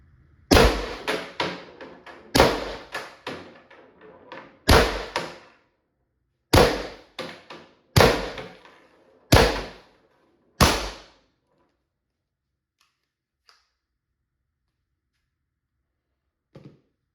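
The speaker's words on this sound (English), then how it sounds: "So I'll just shoot a few more rounds in the trap, and we'll see how this cut nylon does." A Valken M17 less-lethal launcher fires rounds into a nylon trap, a series of about a dozen sharp, close pneumatic cracks at irregular intervals, ending in near silence with a faint tap or two.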